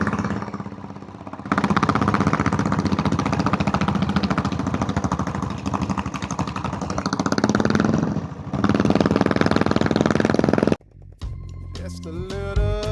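A diesel Royal Enfield Bullet motorcycle runs with a loud, steady, hard-knocking engine throb on a hill road to Yercaud, holding constant before cutting off abruptly near the end.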